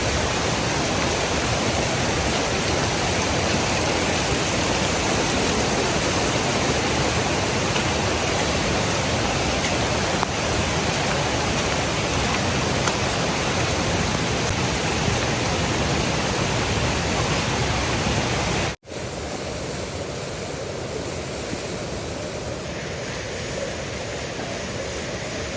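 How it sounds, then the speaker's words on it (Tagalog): Irrigation water overflows in a torrent during heavy rain in the mountains, a loud steady roar lasting most of the stretch before cutting abruptly to a quieter hiss. "Sa irrigation yan, umaapaw yung tubig."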